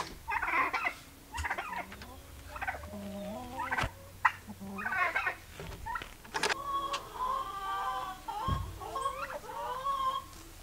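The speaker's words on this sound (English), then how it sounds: "my two turkeys" Two domestic turkeys gobble repeatedly in the background near a home, their bursts of rapid, warbling calls coming in several bouts, with other faint farmyard noises between them.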